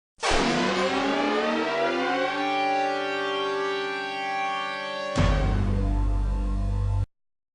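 An Israeli civil defense air raid siren blares loud and close, a steady wailing tone that rises, holds, and then restarts with a fresh surge partway through before cutting off abruptly.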